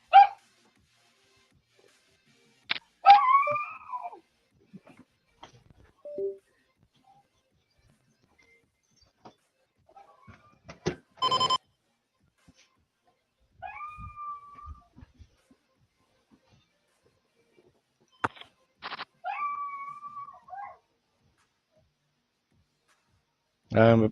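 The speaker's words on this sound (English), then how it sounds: "I apologize for the dog in the background." A dog whimpers and whines in short, high, scattered bursts in the background, separated by long quiet gaps, with a few sharper yips and noises mixed in.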